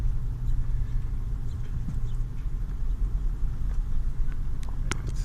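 Interior drone of an automatic car being driven slowly, a steady low engine and road rumble with faint scattered clicks and knocks, continuous and without talk.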